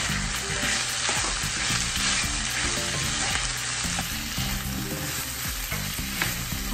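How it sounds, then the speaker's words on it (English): Steak and vegetables sauté in a pan with a loud, dense, continuous sizzle and frequent stirring scrapes and clatter, close and unbroken throughout. "Now add in the vegetables. Saute for another 2 to 3 minutes."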